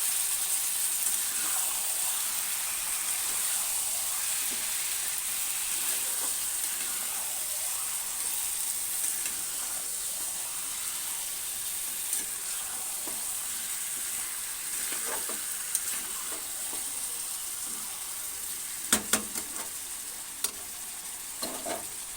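Meat braises in a pan with a constant close sizzle and soft hiss, with occasional scraping stirs and a few sharp utensil clicks near the end.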